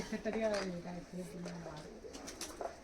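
Kalduma pigeons coo softly in a netted rooftop loft with a bamboo perch. Someone talks close by over the birds, and the cooing stays low behind his voice.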